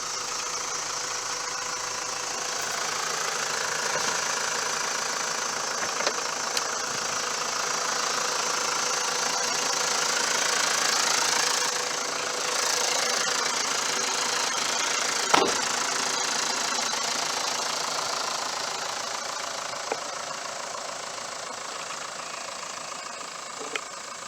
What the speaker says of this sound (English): Listening to the diesel engine run, it's very quiet